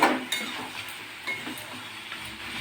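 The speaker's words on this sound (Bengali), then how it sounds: "ধনে গুঁড়ো দিয়ে ভালো করে একটু ভাজবো, আর একটু ভালো করে ভাজবো।" Katla fish head and pui saag frying in a pan with coriander powder, a steady soft sizzle with a few light scrapes and clinks of a spoon, no voices.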